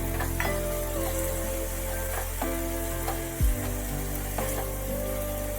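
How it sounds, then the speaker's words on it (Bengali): Fried prawns tipped into a pan of sizzling amaranth greens. A steady, loud sizzle runs throughout, with stirring scrapes and clinks and one brief thump midway. "এবার আমি চিংড়ি মাছ ভাজিয়ে রাখা চিংড়ি মাছ আর কি যেগুলো আছে সেগুলো দিয়ে দিলাম"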